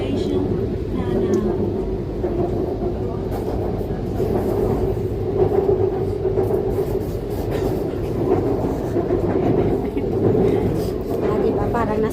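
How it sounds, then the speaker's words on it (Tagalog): Bangkok MRT train running, a steady rumbling ride with rail clatter and hum, people talking over it and a station announcement faintly in the mix. "Sumakay kami ng MRT."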